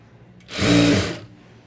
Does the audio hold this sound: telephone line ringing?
no